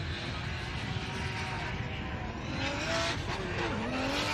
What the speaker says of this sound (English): Drags the back end of the BMW into that rear clipping zone and very tight to that final one